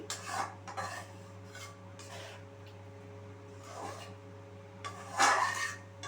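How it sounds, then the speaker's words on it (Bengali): A spoon scrapes and stirs cauliflower curry made with coconut milk in a pan, giving a few intermittent metallic rasps, the last one loudest, over a steady low kitchen hum. "খুব ভালোভাবে আমি সমস্ত কিছু মিশিয়ে নিচ্ছি।"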